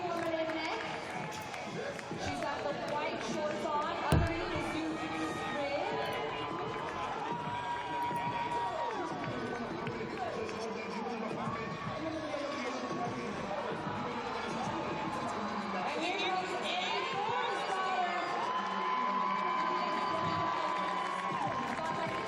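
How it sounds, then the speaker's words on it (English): Big stadium crowd at the CrossFit Games keeps up a continuous roar of cheering and chatter under an announcer's voice, with whistles and shouts rising now and then. "Everybody's here to cheer."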